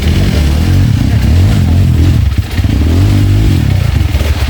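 A trail motorcycle engine runs loud and close, with a steady low throb and rough clattering texture that dips briefly midway before picking back up.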